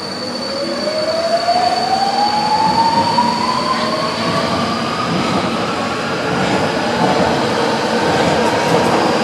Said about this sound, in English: And along we go onto a new metro train.